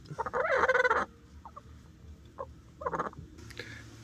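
A broody hen clucks and croaks in short, grumbling bursts, one longer call then several quieter clucks, close and fairly faint over low background noise.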